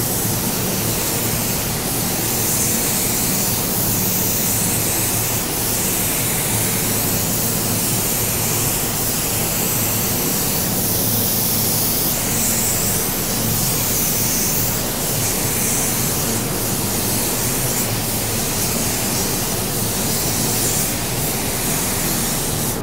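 A paint spray gun lays down a second, slightly heavier coat, a steady, loud hiss of atomized paint that runs without a break.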